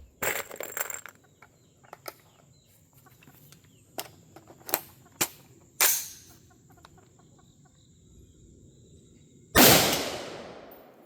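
Anderson AR15 rifle fired at an outdoor range: a handful of sharp reports spread irregularly across a quiet stretch, with the last and loudest shot ringing out and trailing off.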